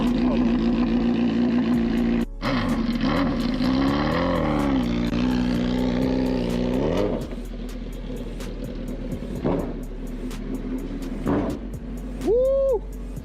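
A Suzuki Hayabusa Gen I motorcycle engine runs close by with a loud, steady idle hum that swells into a rev and then settles back.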